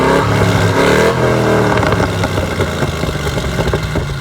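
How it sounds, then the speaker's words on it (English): Close, loud exhaust note from a Chevy SS engine revving, climbing and falling through a couple of throttle blips before settling into a rough, throaty hum. "that's the exhaust note, which is pleasantly unsubtle, the opposite of the rest of this car"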